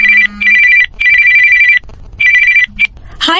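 A telephone rings loudly in repeated trilling bursts with short gaps between, close by, ending with a brief rising electronic tone.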